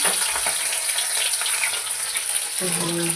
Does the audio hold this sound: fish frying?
yes